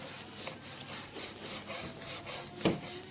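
A brush scrubs the inside of a very dirty refrigerator in steady, rhythmic back-and-forth strokes, a close, raspy rubbing that repeats about every quarter second with no one talking.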